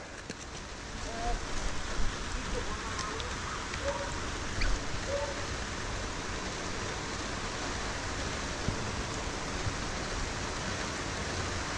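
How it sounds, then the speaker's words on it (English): Steady rain falls outdoors during work on a blocked drain, a continuous soft hiss of drops with faint bird calls and occasional voices nearby. "We'll wait for that rain to die off."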